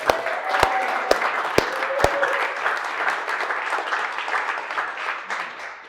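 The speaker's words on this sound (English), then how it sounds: "Donut Slinger, give him a round of applause" Steady applause from a crowd, with a few sharp louder claps early on over a continuous dense patter of hands.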